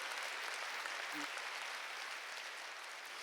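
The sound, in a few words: applause in church congregation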